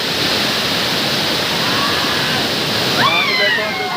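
Rushing water pours down a waterfall at Mohana in Gajapati in a loud, unbroken hiss and roar, close up, with a person starting to speak over it near the end.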